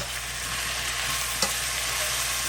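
Gumbo ingredients seasoned with black pepper are stirred in a hot frying pot, a steady close sizzle with one brief clatter partway through.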